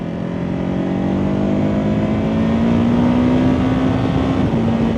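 A KTM Superduke 1390R EVO or Ducati Hypermotard 950SP engine braking in third gear, a loud steady droning roar with a slowly rising and falling pitch throughout, close up and without talk.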